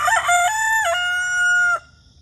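A turkey gives a single loud, close, sustained call lasting under two seconds, with a bright, pitched tone that breaks partway through before cutting off.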